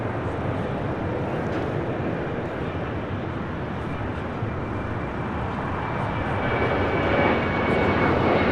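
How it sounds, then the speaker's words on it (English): United Airlines jet airliner taking off at LAX: a loud, steady engine roar holds throughout the eight seconds and swells slightly toward the end, with no talk over it. "This is United Airlines 368 taking"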